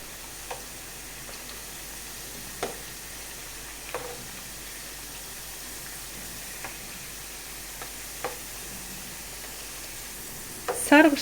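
Potato chips frying in oil until golden, giving a low, steady sizzle with occasional faint pops. A louder rustling burst comes right at the end.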